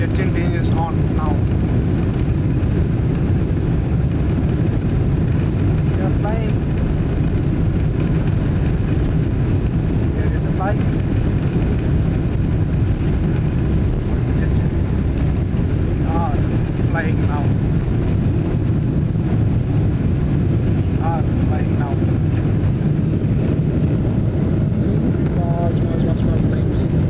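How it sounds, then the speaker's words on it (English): Loud, continuous roar of an Emirates jet airliner's engines heard from inside the cabin during takeoff, steady and enveloping, with faint voices in the background. "The jet engine is on now."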